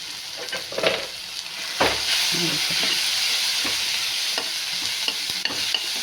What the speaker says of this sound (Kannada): ಇದರೊಳಗೆ ಹಾಕಿ ಸ್ವಲ್ಪ ಹುರಿದ್ಬಿಟ್ಟು